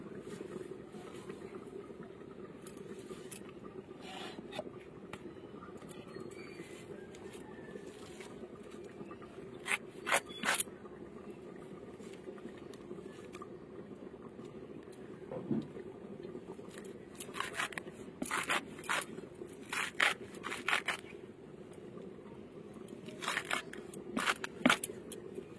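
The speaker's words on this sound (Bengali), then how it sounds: "এবার আমি শাকগুলো কুচিয়ে নেবো।" A knife chops leafy greens for a Bengali home-cooked dish, with irregular clusters of quick cutting strokes scattered over a quiet kitchen hum, growing busier in the latter half.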